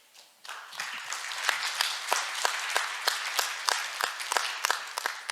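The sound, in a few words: audience applause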